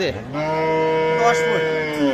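A cow gives a loud, drawn-out moo close by at a rural cattle market where cows with calves are being sold, one sustained call over a murmuring crowd.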